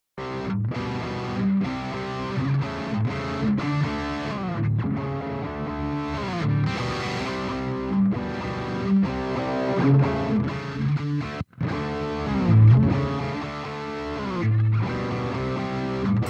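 Distorted electric guitar run through a Boss GT-1000 amp modeller on an X-modded amp model with bass, middle and treble at 50, playing loud sustained chords and riffs that continue steadily, with one brief dropout near the end.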